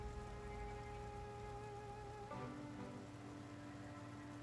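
Quiet, steady rain patters in Project Zomboid under sustained tonal hum, soft and even throughout with a slight shift partway through.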